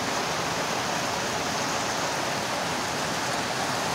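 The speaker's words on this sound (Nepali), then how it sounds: "बिहानै कत्रो ठुलो पानी आएको छ" Heavy morning rain pours down in Lamjung, a dense, steady roar of water with no gaps, loud and close, filling the whole scene without voices.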